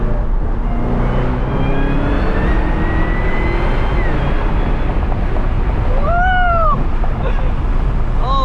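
A 600HP Cadillac CTS-V accelerating through city streets, its supercharger whine rising in pitch over steady engine and road roar, with sharp tonal sweeps near the end.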